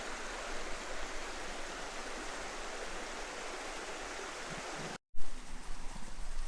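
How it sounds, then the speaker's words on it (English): Steady rushing of a small waterfall, a continuous hiss of falling water close by, with a brief dropout and a few light knocks near the end. "I'm glad I got to see this little waterfall after all."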